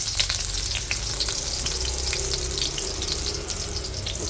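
Ginger and garlic sizzling in hot cooking oil in a pan, a steady close crackling fry with small spits and pops throughout, no talking.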